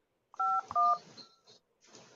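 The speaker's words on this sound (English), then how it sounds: "I'm going to redial again." Short telephone dialing tones, two clear DTMF beeps in quick succession followed by faint line noise, heard alone and close.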